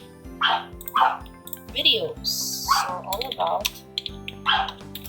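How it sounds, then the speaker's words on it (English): A dog barks indoors in short bursts while a teacher talks steadily through a computer-class lesson, with keyboard typing in the background. "I'm so sorry about the dog barking."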